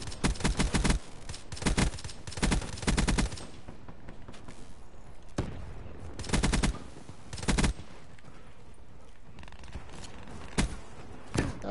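Rapid automatic gunfire in the Call of Duty Black Ops III shooter comes in several loud bursts of sharp cracks, separated by quieter gaps and isolated single shots.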